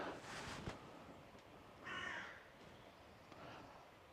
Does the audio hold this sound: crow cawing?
yes